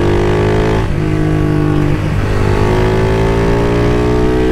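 A Start Turbo 230 motorcycle engine revs loudly and close on a street, a continuous droning roar with a slight dip in pitch partway through, running alone without talk.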